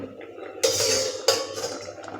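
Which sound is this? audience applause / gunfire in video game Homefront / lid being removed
lid being removed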